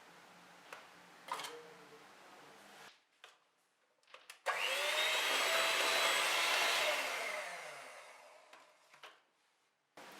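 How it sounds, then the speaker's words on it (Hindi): An electric beater whirs loudly for a few seconds as it beats an egg into creamed butter and sugar for tea cake batter, then slows and fades. Quieter clinks and taps come before it. "पहले एक अंडा डालेंगे और बीट करेंगे"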